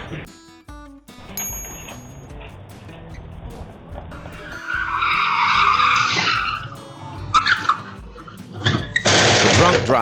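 A car driven by a drunk driver leaves the road and tears through a garden, caught on a Ring doorbell camera. Engine noise builds to loud skidding, scraping bursts in the middle and again at the end, with voices faintly present.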